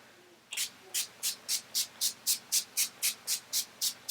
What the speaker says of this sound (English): I'm going to spritz my face before I apply highlighter